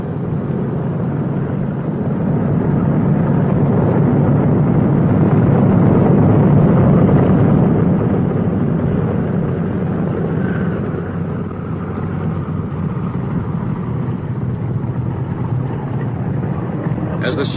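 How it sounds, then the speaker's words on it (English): A B-29 bomber taxis, steering with its outboard engines instead of the brakes. A continuous heavy engine roar swells and eases slightly, with a voice speaking over it. "Steer with the outboard engines, not the brakes."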